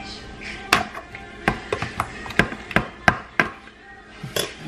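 A paring knife cuts open a turkey in a home kitchen, making a close series of sharp, fairly evenly spaced knocks and taps.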